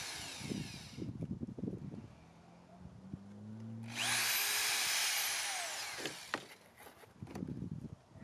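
Screws being driven with a power tool into a plastic radiator grille on a Renault without pre-drilling, a few seconds of steady whirring motor at middle distance between quieter handling noises.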